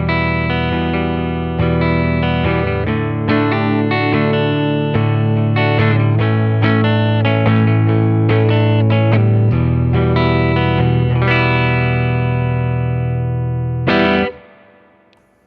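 A Kurt Cobain Fender Jaguar electric guitar on its neck pickup with a clean tone plays a continuous run of chords and notes for about fourteen seconds, loud and close, then rings out and fades.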